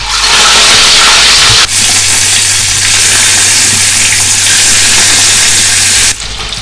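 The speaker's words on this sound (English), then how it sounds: "I will start dropping in the beef one by one inside my frying pan." Beef pieces dropped into hot oil in a frying pan for Nigerian jollof rice sizzle loudly and close, a steady roaring hiss with a brief drop where more meat goes in.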